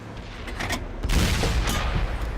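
A Jagdpanther tank cannon firing in a video game battle, one heavy booming shot that rumbles and rolls out after a short lead-in of distant gunfire, loud and near, with no voices.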